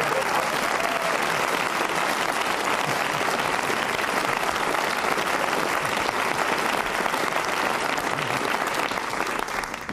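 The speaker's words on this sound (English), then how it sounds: "I don't know why you're clapping that" A radio panel-show studio audience claps in a full, continuous burst of applause, loud and even for the whole stretch with a faint crowd murmur beneath.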